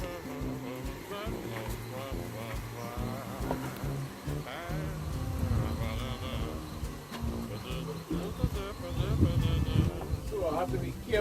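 A strong honeybee colony, just opened, hums and buzzes continuously around the listener, a dense drone of wings beneath someone talking nearby.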